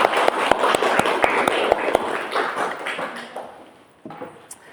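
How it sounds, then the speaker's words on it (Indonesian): A class claps hands together during a morning Islamic education lesson, making a brisk, regular rhythm of sharp claps that fades into scattered applause before a brief hush. "Tepuk tangan buat kita semua."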